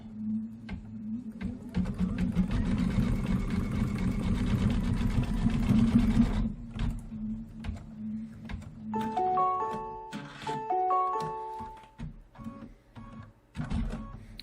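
An embroidery sewing machine stitches a small rocket spark tip in white thread, a steady rapid mechanical whir with dense stitching clatter that runs loud and close for several seconds, then gives way to quieter intermittent machine beeps and clicks.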